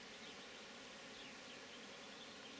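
Honeybees fly in and out of a hive entrance in an April garden beside oilseed rape, a steady soft insect hum held low under broad outdoor hiss, with no single bee standing out.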